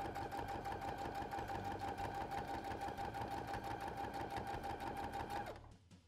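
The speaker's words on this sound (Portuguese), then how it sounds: "viro e continuo a costura" A sewing machine stitches fabric for a travel toiletry bag in a fast, steady mechanical run of needle strokes, close and continuous before stopping near the end.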